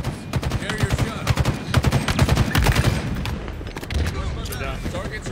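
Rapid automatic gunfire and bursts of shots from Halo Infinite multiplayer, loud and dense, with a player's voice talking over the shooting.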